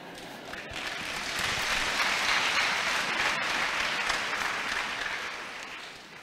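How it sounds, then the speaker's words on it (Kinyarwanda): A church congregation applauds a preacher's sermon, a broad, steady wash of clapping that swells, holds for several seconds and then tapers slightly, with no talk over it. "Sinzi icyo mukomeye amashyi."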